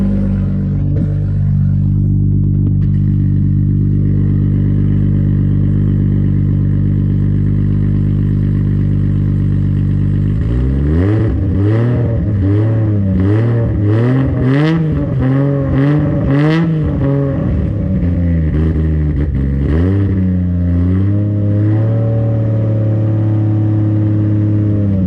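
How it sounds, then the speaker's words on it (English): A Nissan R33 with a built RB25DET turbo engine idles steadily, then revs up in a series of rising, throaty bursts before settling back toward idle, the motor cold. "let's rev it up. We won't rev it too much, just a little bit of revs."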